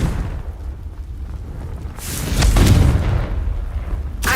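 A Confringo blasting spell explodes in a Hogwarts video game: after a quiet start, a heavy, loud boom swells and rumbles for about a second, then a sharper crack follows near the end.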